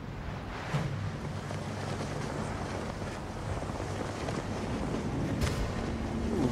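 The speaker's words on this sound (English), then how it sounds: "Ooh, very windy out here." Steady wind gusting in the Ghost of Tsushima video game, a broad continuous rush high up outdoors with a few brief swells, heard alone without talk.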